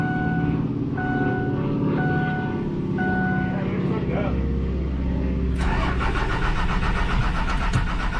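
Cummins diesel engine in a King Ranch truck cranking with a repeated beeping chime, then catching and settling into a loud, rough idle, heard close with people talking throughout.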